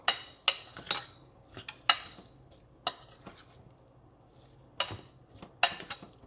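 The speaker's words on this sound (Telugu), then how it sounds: "ఇప్పుడు ఒకసారి కలిపేసుకుందాము" Spoon stirring spinach tomato dal ingredients in a metal cooking pot, sharp clinks and scrapes in scattered bursts with quieter gaps, close and clear with no talk.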